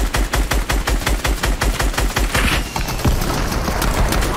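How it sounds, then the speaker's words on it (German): Rapid automatic gunfire in the video game Fortnite rattles in a steady rhythm, then gives way to a louder burst and continuing noisy blasts. "Das war mein letzter Schuss."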